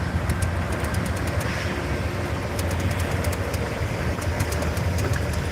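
A passing train rumbles steadily nearby, low mechanical roar with rhythmic clicking bursts of wheels over rail joints repeating through the sound.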